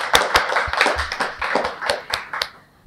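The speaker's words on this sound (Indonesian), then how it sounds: "minta tepuk tangannya dulu ya biar lebih semangat hari ini" An audience at a Nutanix Cloud Talk tech event claps together, a short burst of sharp, fairly close hand claps in an uneven rhythm that thins out and fades by the end.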